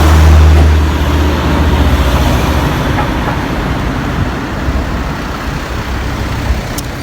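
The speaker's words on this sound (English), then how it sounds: "So watch some of the cars go through here." Cars rolling over a cobblestone street in Germany, giving a steady low rumble of passing traffic that stays fairly loud throughout, with no voices.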